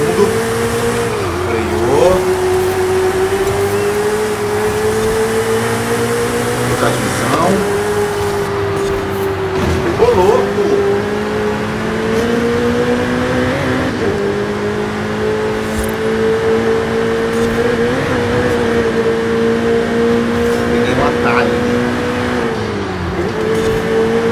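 A Ferrari Pista engine in the Forza Horizon 5 racing game on Xbox Series X, a loud sustained roar that rises through the revs and drops sharply at several gear shifts. A voice talks over it at times.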